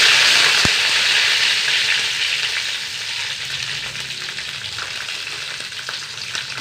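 Mustard seeds, dried chillies and curry leaves fry in hot oil with a loud, bright sizzle that spits and crackles, settling gradually into a softer steady hiss.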